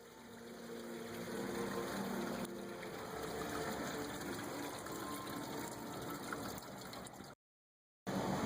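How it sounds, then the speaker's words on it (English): Steady gushing of engine coolant draining out in a continuous stream from a Kia Optima 2.7L V6, close by, ending abruptly in a short silence before resuming. "Out comes the coolant."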